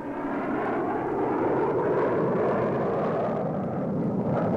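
Fighter planes diving on attack runs during a military exercise, a loud continuous roar of jet engines swelling and holding steady, with no voices over it.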